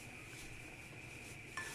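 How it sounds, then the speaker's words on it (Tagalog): A spoon stirs baby rice porridge (lugaw) in a cooking pot, a faint, soft scraping with a light clink near the end. "hinahalukay ko siya"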